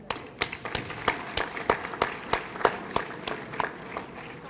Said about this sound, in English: So let's give the alumni here a round of applause also.